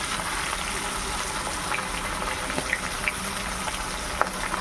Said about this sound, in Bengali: মাছটা এক পাশ ভাজা হয়ে গেছে, আরেক পাশ ভাজা হওয়ার জন্য মাছটা